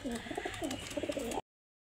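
Pigeons cooing at a market stall selling pigeons, a steady run of close, throaty coos and rolling calls overlapping one another before cutting off abruptly.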